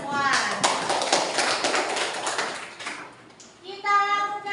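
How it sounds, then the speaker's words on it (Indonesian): A classroom of children claps together in a loud, close burst of applause lasting a few seconds, followed by a teacher speaking. "Kasih aplaus untuk kita semua."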